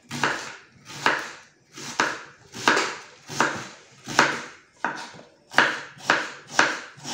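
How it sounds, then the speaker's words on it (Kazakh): A knife chops carrots on a cutting board with about ten firm, evenly spaced strokes. The chopping is close and loud, with no talking. "Сәбізімізді бәрін осылай етіп турап"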